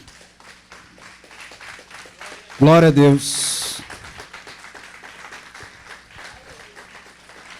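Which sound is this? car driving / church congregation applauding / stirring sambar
church congregation applauding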